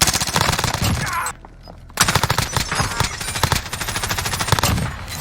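Rapid automatic gunfire from Call of Duty Warzone's FARA 83 assault rifle in Season 3, dense bursts with a brief lull midway, loud and continuous over game audio.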